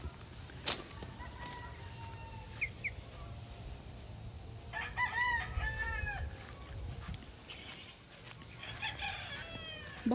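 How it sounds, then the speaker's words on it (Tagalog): Chickens clucking and a rooster crowing on a farm with poultry pens. A low background rumble runs throughout, and several crows and clucks from the birds rise faintly above it, some nearer and some farther off. "Bisitahin muna natin yung mga manok."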